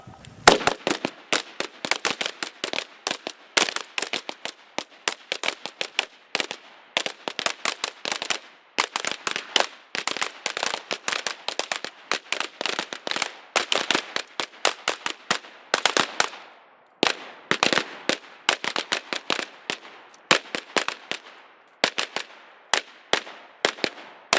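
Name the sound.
carbine gunfire at shooting class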